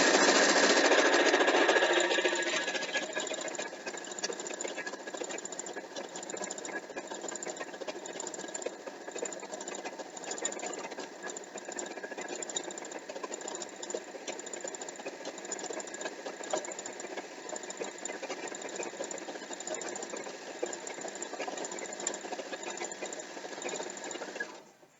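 A sewing machine stitches a Hyrule Crest queen-sized quilt, its steady mechanical whirr running continuously and fairly loud at close range, with a brief louder burst at the very start and no talking.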